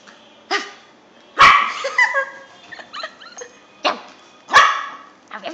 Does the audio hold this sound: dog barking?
yes